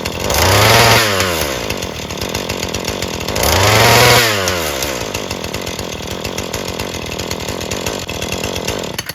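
A Husqvarna 435 40cc X-Torq gas chainsaw revs up twice, engine rising and falling in loud close bursts as the clutch engages and spins, then settling to a steady idle between revs.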